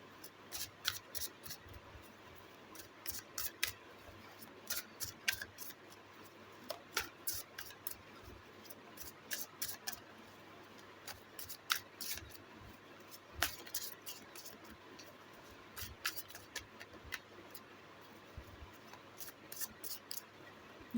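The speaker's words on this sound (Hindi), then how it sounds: "जब तक मैं कार्ड शफल कर रही हूँ" Tarot cards shuffled by hand, a run of quick crisp riffles and snaps coming in uneven bursts, close and fairly quiet, with no talking.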